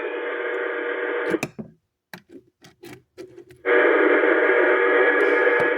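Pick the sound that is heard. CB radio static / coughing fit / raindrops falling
CB radio static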